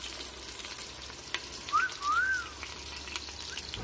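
Ginger dropped into a pan of frying green beans and potatoes, giving a steady, soft sizzle and crackle close by, with a brief whistling tone in the middle and no talk.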